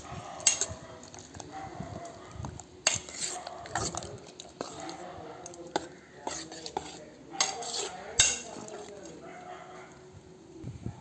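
Fruit being mixed into custard in a bowl for a fruit salad, with a spoon scraping and clinking against the bowl in irregular bursts, close and moderately loud, with no talking.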